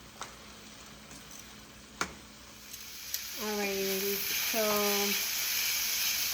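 Steak and onions frying in a pan for Philly cheesesteak, a soft steady sizzle under a few scraping stir clicks, with two brief tonal whines near the end.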